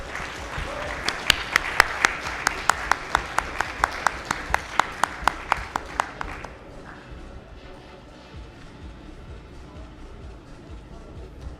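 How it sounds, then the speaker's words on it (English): An audience at an oral cancer research event applauds, sharp rhythmic clapping that fades into low room murmur after about six seconds. "Give a big round of applause"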